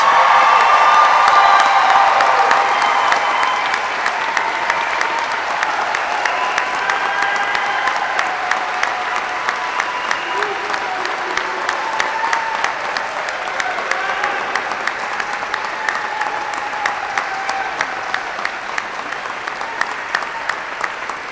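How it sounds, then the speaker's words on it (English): Audience at a U.S. Army flight school graduation applauds the newest aviation graduates, sustained dense clapping with scattered whoops and cheers filling a large hall, gradually settling but steady throughout. "Please join me in a round of applause for the Army's newest aviation warfighters."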